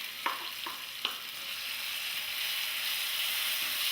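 Chili frying in hot oil with shallots already fried golden brown, a steady broadband sizzle with a few sharp stirring clinks near the start, close and alone.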